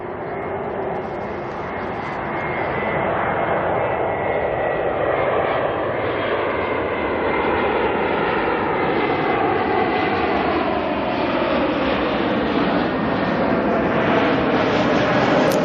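Air New Zealand A321neo arriving from Sydney at Auckland at night, a loud sustained jet engine roar with slowly shifting whine bands, steady and close throughout.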